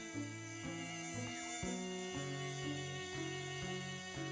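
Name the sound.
female Anopheles mosquito buzzing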